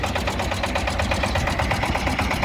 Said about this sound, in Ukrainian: такий гарний тракторець їде до свого власника